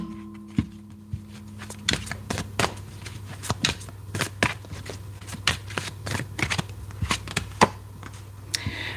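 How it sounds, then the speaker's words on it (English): Tarot cards being shuffled by hand at close range, a quick run of crisp riffling snaps and slaps repeating irregularly throughout, with no talking over them. "I'm going to pull 3 cards."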